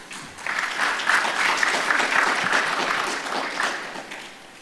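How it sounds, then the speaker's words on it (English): Sustained applause from a seminar audience honoring a speaker on human health research, steady dense clapping at moderate volume with no voices over it for nearly five seconds. "Please give him another round of applause."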